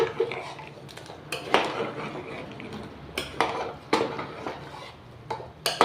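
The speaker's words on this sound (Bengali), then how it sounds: "এরকম নাড়িয়ে দেবেন যাতে তলার থেকে একদম মশলাটাও একদম সুন্দর জলের সঙ্গে আলুর সঙ্গে একদম মিশে যায়।" Mutton, potatoes, spices and water are stirred in a pressure cooker: a series of irregular metallic clanks and scrapes as a spoon hits the pot, fairly quiet and close, with no voices.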